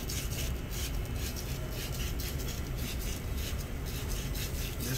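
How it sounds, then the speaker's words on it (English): Sandpaper wrapped around a dirty copper pipe and worked in a circle, giving a steady, continuous scratchy rubbing close up with no pauses. "Just wrapping the sandpaper around the pipe and moving in a circle."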